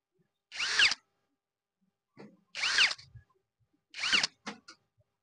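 An electric power drill tightens the nuts on a desert cooler's replacement motor in three short, loud, whirring bursts separated by pauses, with small clicks in between and no talking.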